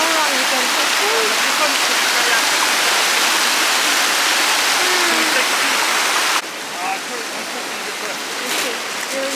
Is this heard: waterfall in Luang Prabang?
yes